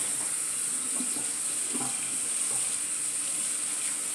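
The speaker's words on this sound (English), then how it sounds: "so go ahead and let this water out" Water draining out of a sink, a steady hiss and trickle that runs evenly throughout with a few soft gurgles, close by and with no talking.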